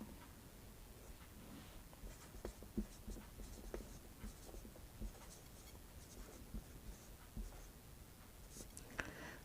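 Chalk or marker writing on a board during a Class 10 maths lesson on coordinate geometry, with faint scratchy strokes and light taps spread steadily over low room noise.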